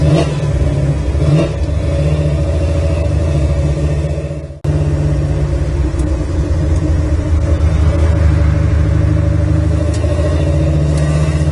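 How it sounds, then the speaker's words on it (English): A 1967 Chevrolet Chevelle engine runs steadily under load while driving, a loud continuous rumble that briefly cuts out near the middle before resuming, with no talking. "let's go for a ride and see how this little guy runs"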